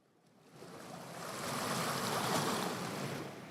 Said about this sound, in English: That's interesting that I turn up the music and we get sound of the waves.